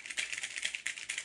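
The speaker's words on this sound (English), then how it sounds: "so I can apply noise removal to his loud mechanical keyboard" Loud mechanical keyboard typing, with rapid clicky keystrokes in quick, uneven bursts, close and crisp, with no voices.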